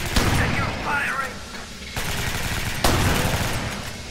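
Rapid gunfire in the video game Alien Swarm, bursts of dense automatic shots crackling through a few seconds, mixed with game sounds and talk over it.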